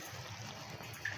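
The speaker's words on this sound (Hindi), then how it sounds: "तो देखें जी, ये बॉईल हो रहे हैं।" Chicken pota kaleji (tripe and liver) boiling in a cooking pot over high heat gives a faint, steady watery hiss and soft bubbling with no talk.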